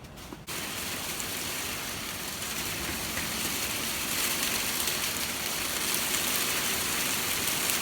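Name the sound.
hail falling outdoors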